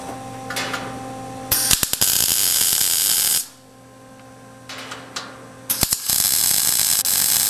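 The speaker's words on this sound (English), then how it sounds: "I'm going to weld that in place." MIG-style welding of a steel part onto a homemade Dillon oven: two loud bursts of steady crackling buzz lasting about two seconds each, separated by a quiet pause with a faint hum, and no talking.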